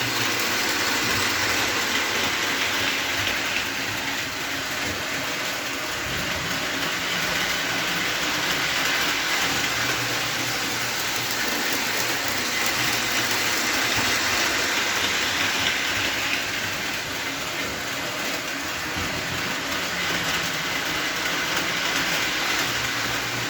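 A custom-built MTH 4-4-0 model locomotive assembled from parts, with a DC can motor and no brass flywheel, runs steadily for the whole stretch, giving a continuous whirring, rattling hum with no talk over it.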